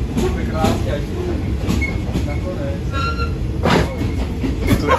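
Continuous heavy rumble of a long train passing in Thailand, wheels clattering and occasionally squealing on the rails, loud and close throughout.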